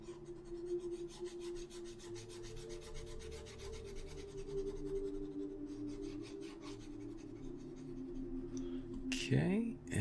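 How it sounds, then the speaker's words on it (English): An eraser rubs back and forth on paper in quick, close scrubbing strokes, faint and rhythmic, beneath a steady background hum with a voice talking over it. "We'll use the eraser again to erase that and to erase this."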